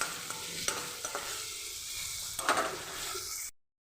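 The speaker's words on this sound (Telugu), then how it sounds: "ఇప్పుడు బ్రౌన్ కలర్గా అయితే వేగాలి" Onion and tomato with turmeric and salt frying in a pan, a steady close sizzle with a few stirring scrapes, cutting off abruptly near the end.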